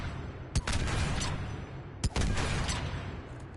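Gunfire crackles in Mass Effect 3 as a weapon is test-fired, two sharp loud shots a second and a half apart, each trailing into a rolling burst of echoing reports.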